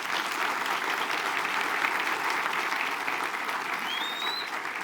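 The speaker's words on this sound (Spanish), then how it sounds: "fuerte el aplauso entonces para el señor." Audience applause after a talk on web application security, a dense steady wash of many clapping hands sustained throughout at even loudness.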